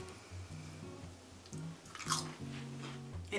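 Crunchy air-fried frozen onion rings being chewed close up, a handful of crisp bites and crackling crunches at an irregular pace, with no talking.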